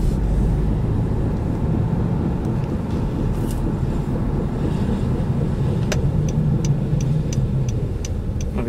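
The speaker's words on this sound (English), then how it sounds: "just driving the Honda Civic here around a little bit" A 2013 Honda Civic with worn front brakes driving slowly, a steady low road and engine rumble, then a series of regular high-pitched ticks or squeaks repeating about every half second toward the end.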